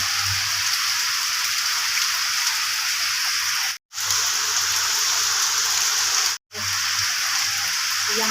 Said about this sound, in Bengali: বাইরে প্রচণ্ড বৃষ্টি পড়ছে